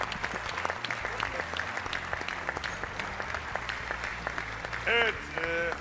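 A studio audience at the O Ses Türkiye singing competition applauds with a loud, dense, continuous wash of clapping, and a voice rises briefly near the end.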